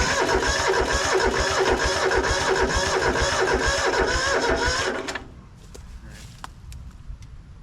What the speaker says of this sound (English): let's just see if it'll crank over